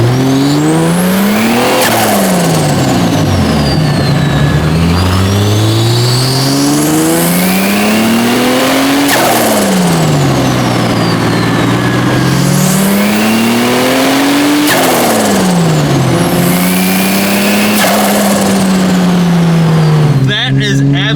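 A turbocharged L28 engine in a 1980s Datsun 280ZX revs hard through repeated full-throttle pulls on a test drive after a dyno tune, each rising roar cutting off sharply at the shift, loud and close from inside the car.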